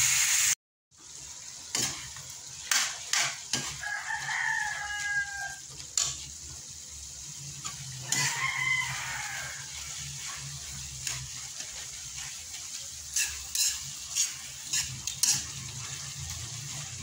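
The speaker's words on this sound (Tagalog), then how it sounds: "Sangkutsahin muna natin bago haluin." Tomatoes sautéing in a frying pan, a faint steady sizzle broken by scattered clinks and scrapes of stirring, while chickens cluck in the background.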